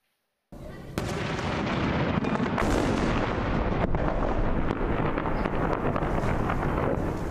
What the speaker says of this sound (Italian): Alle prime luci dell'alba inizia il bombardamento da parte dell'esercito turco.